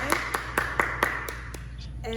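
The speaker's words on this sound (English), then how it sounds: "So let's give a big applause for everybody" A small group claps in a steady rhythm for students earning black tips at a juniors and adults class, about nine distinct near claps spaced evenly, with a voice starting at the end.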